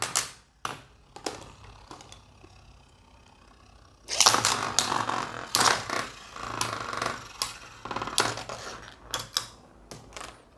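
Beyblade spinning tops (hard metal system Drigger and Dark Effigy, including cheap copies) rip into a stadium after scattered sharp clicks, then clatter and strike each other in quick, irregular metallic bursts, close and loud.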